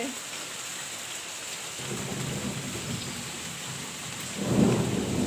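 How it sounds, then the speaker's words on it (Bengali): A low roll of thunder grows under steady rain, swelling louder toward the end. "ওই দেখো মেঘ ডাকছে।"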